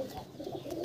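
Dhille pigeons for sale, moulting birds said to come from Delhi, give soft, low repeated coos in close, continuous overlapping murmurs through the short stretch.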